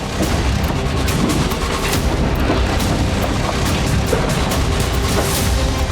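Continuous heavy rumbling roar with dense crackling and booming, like a large explosion and fire raging nearby, loud and sustained throughout: a drone strike explosion setting a market ablaze in wartime Russia.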